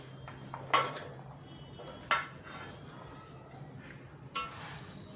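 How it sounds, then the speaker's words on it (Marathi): Chopped vegetables, including carrot, capsicum, beetroot, tomato and potato, drop one at a time into a small metal pressure cooker, giving three separate clanks in a quiet kitchen. "आता आपण सर्व धुवून चिरून घेतलेल्या भाज्या एक एक याच्यामध्ये घालणार आहोत"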